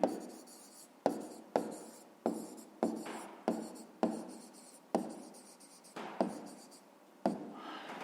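Pen strokes on paper while writing out a fifth-grade math exercise on fractions, a series of close, distinct scratching bursts, each starting sharply and fading, repeating about a dozen times with brief pauses between.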